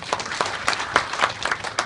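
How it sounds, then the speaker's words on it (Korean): Short burst of applause from the audience at a real-estate investment seminar about Sejong City, a fairly loud cluster of hand claps with audible individual strikes over a brief couple of seconds. "박수 한번 쳐주시고 고맙겠습니다."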